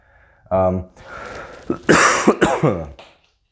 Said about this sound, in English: Sorry again for the coughing.